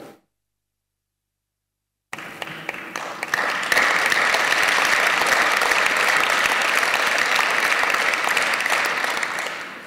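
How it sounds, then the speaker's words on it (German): Sustained audience applause at a re:publica 2010 conference talk, rising after two seconds of silence into dense, steady clapping that fills the rest of the clip, loud and close with no speech over it. "vielen Dank für den Applaus, der gehört nämlich wirklich dahin."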